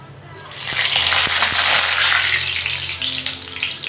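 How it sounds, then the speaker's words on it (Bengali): Bay leaf, cardamom and cinnamon dropped into hot oil in a kadai set off a loud, steady sizzle with crackling and spattering, rising sharply after the first half second and then easing slightly. "এখন এটার মধ্যে দিয়ে দেবো আমরা তেজপাতা আর এলাচি"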